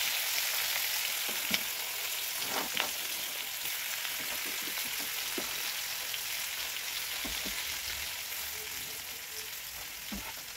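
Chopped onions fry in oil left in the pan, a constant close hiss of frying with occasional scrapes and taps of a stirring spoon, no voices.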